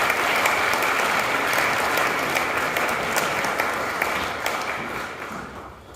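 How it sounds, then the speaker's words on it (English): Steady, dense audience applause fills a hall at a housing awards ceremony, loud and even throughout before thinning slightly toward the end, with no talk over it. "Give them one more big round of applause."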